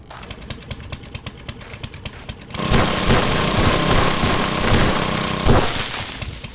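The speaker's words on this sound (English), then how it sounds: "But an auger is sure to get some attention." A gas-powered auger digs dirt in the 7 Days to Die survival game, starting with sharp rhythmic clatter before roaring into a loud, steady engine grind that runs continuously to the end.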